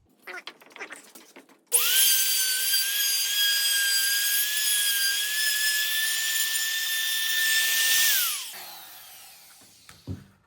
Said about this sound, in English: take a router with a flush trim bit. And I'm just going to route away all the excess